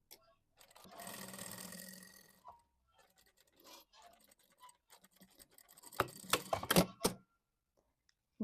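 Sewing machine stitching a summer sundress, joining the skirt to the bodice: a fast burst of mechanical stitching, then scattered clicks and a second short, louder run of stitches, close and with no voices.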